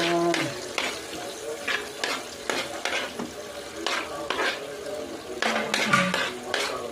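A utensil stirs octopus adobo ingredients in hot oil in a pan, giving steady scraping and clinking over a constant sizzle with frying crackle underneath.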